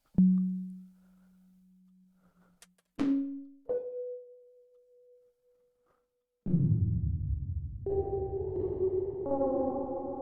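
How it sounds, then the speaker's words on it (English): Isolated synth notes through a combined reverb, chorus and disperser effect bloom into long, washy, shimmering tails that slowly fade, followed by sustained chords smeared with a dense, swirling reverberant haze. "this is kind of a mixture between a reverb, a chorus, and a disperser"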